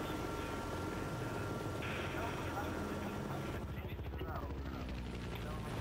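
Helicopter rotor and engine drone in the video game Battlefield: Bad Company 2 runs steadily throughout, mixed with dense game noise and a change in texture partway through.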